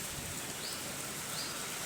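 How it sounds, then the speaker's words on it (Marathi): Steady outdoor rain under a dark sky, a continuous even hiss of falling water with no voices. "पाऊस येत आहे बरं का"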